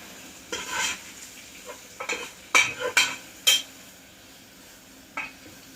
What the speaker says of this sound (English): Regular margarine, threw some flour in there. I'm just cooking it until the flour is not raw.